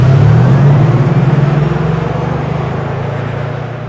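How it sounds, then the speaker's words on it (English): An electric Mercedes-Benz G-Class playing its synthesized driving sound, a loud, low droning hum with a pulsing throb that slowly fades over a few seconds, heard alone. "we will delight you with the very emotional G-Class specific driving sound for this all-electric model"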